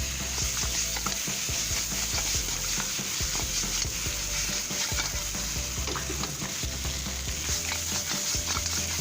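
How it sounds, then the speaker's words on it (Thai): Cleaned egg crab stir-fried with curry powder in a wok makes a continuous sizzle under constant clattering and scraping from stirring, with irregular metallic knocks throughout and no voices. "ผัดผงกะหรี่ให้หอมแล้วก็ใส่ปูครับ"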